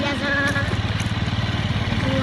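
A motorcycle engine idles nearby with a steady, rapid putter, close and fairly loud throughout.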